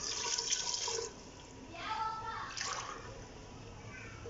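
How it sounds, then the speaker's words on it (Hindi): Water, about two glasses, pours into a cooking pot of mutton gravy in two splashy gushes, with a brief gap between them and a faint voice in the background. "मैं इसमें तकरीबन दो गिलास पानी डाल दूंगी"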